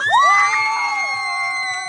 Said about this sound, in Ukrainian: Оплески для Ольги.